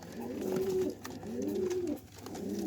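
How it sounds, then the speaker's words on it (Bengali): A green pigeon, a male with a green tail and pearl eyes kept at home, coos in three repeated soft rolling phrases, close and clear with no talk. "এই যে একটা কবুতর সবুজ"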